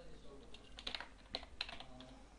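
Keystrokes on a computer keyboard while entering short button text, a handful of crisp clicks in small clusters at a moderate close range against a quiet background.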